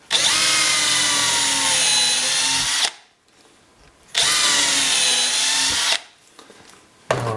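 A power drill fitted with a 5/32 bit bores holes in wood: two steady, high whirring runs of about three seconds each, with short quiet gaps between them and a third run just starting at the end.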